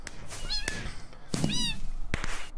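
A cat in a party video game meows twice, short and high-pitched, with sharp clicks and game noises in between.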